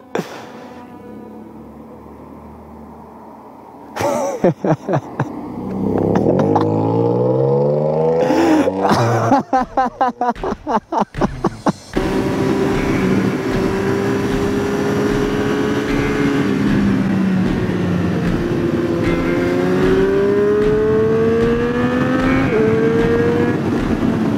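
Triumph Street Triple 765 RS motorcycle engine on a mountain road in the Dolomites, revving through gear changes with sharp bursts, then a steady rising and falling engine drone under wind noise.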